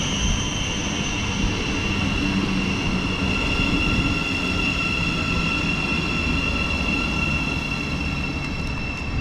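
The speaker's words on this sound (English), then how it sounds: "Okay, coming through now, we've got a East Midlands Railway service" East Midlands Railway train pulling into a station platform in Bedfordshire, a steady loud rumble of wheels and engine with high whining tones, continuous throughout with no talk.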